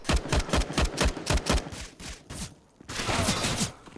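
Rapid gunfire bursts from a Counter-Strike match on the Nuke map, a quick rhythmic string of close, sharp shots followed by a brief lull and then a denser rattling volley, with no talk over it.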